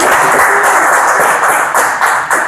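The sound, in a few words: audience applause for a poetry performer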